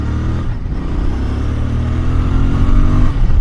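Royal Enfield Bear 650 motorcycle, an Interceptor-based scrambler, accelerating hard through the gears before panic braking, its engine note loud and close with a steady rising roar that builds steadily in pitch throughout.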